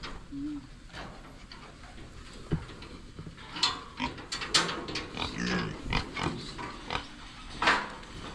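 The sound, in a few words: pig walking and grunting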